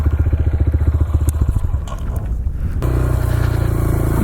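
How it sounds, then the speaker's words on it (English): A 2019 Honda CRF125F mini dirt bike rides single track. The small engine chugs in rapid pulses, then revs higher under wind buffeting and clatter, loud and close. "I'm just riding along on my mighty 2019, I think. 2019 Honda CRF125F."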